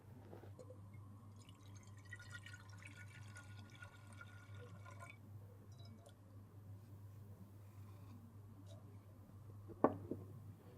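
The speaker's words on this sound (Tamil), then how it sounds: "முதல்ல தேவையான அளவு தண்ணி ஊற்றிக்கலாம்." Water poured into a pot for cooking sorghum rice in a home kitchen, a soft steady trickling and splashing under a constant low hum, with a brief clatter near the end.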